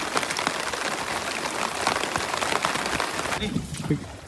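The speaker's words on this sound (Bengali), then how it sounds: "বাইরে কিন্তু প্রচন্ড আকারের ভারী বৃষ্টি হচ্ছে" Heavy rain pours steadily outdoors, a dense, loud hiss of drops on surfaces that holds constant throughout and thins slightly toward the end.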